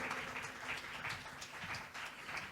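A church congregation claps loudly for Jesus, with rhythmic group applause beating in quick regular pulses at a moderate distance, and no clear speech over it.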